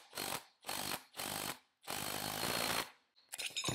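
Bolt being driven in with a power tool to press a Haldex all-wheel-drive axle cup backwards: four loud, close bursts of impact hammering separated by short pauses, the last burst longest, then a brief clatter.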